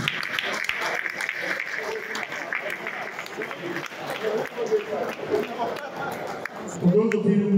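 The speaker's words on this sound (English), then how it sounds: "Please, another round of applause for him, please." An audience at a lecture event on education and national development applauds in a sustained round of clapping that rises and falls for several seconds, with voices heard over it.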